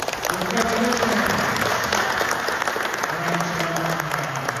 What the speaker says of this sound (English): Let us give Marvin and Lizzie a warm round of applause.